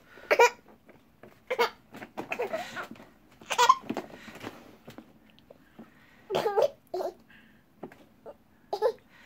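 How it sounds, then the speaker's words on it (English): A small child at the breakfast table gives several short, sharp hiccups close by. They are spaced irregularly and mixed with babble and brief vocal sounds. "Do you have the hiccups now?"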